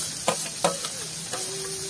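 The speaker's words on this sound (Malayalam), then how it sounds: "ഇനി നമുക്ക് സവാളയും കൊച്ചുള്ളിയും കൂടെ അതിലേക്ക് ഇട്ട് കൊടുക്കാം ഈ എണ്ണയ്ക്ക് തന്നെ നമുക്ക് വഴറ്റിയെടുക്കാം" Onions and shallots sauté in oil in a pan, with a steady close sizzle broken by a few sharp spoon scrapes and clicks, and a faint tone lingering underneath.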